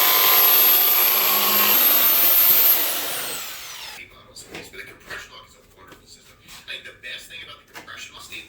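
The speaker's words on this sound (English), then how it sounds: "I'm cutting these out of 3/8 inch ply" Loud, dense power-tool cutting through 3/8 inch plywood for seat tops on a small cruising dinghy build runs for about three seconds and then winds down, followed by quieter handling sounds and a voice talking.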